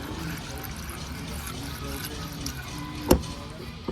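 Engine oil is pumped into a 2023 Nissan Pathfinder during an oil change, a soft steady liquid gurgle and flow with one sharp knock partway through.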